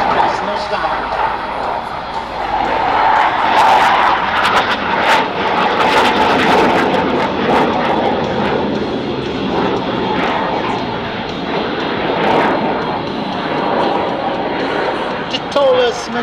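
Leonardo M-346 Master jet trainer of the Italian Air Force at an airshow, engine roaring steadily and loudly as it spools up from idle for a nose-down manoeuvre, with a commentator talking over it throughout.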